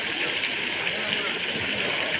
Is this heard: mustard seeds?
no